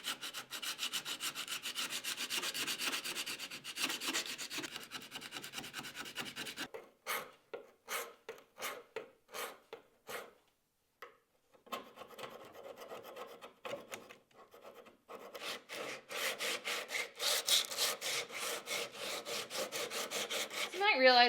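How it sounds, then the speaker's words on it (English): Wooden stair treads being power-sanded, a steady abrasive rasping that runs loud and continuous, breaks into a series of short separate passes with brief pauses in the middle, then returns to sustained grinding close by. "repeat the sanding sequence over here independently"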